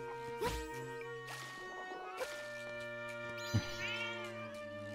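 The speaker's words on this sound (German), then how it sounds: "wenn ich diese Sounds jetzt höre von der Katze, muss ich an Cat Quest denken" A cat meows repeatedly in the video game Zelda: Echoes of Wisdom, several clear, drawn-out cries over steady game music.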